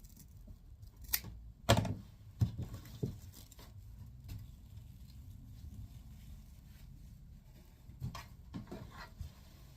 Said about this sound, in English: we're going to take our scissors and we're just going to cut that.